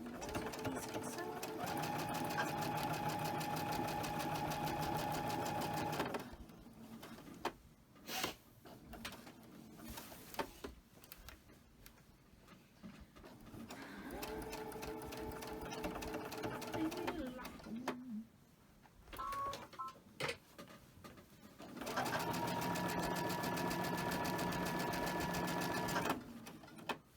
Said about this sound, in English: These get sewn.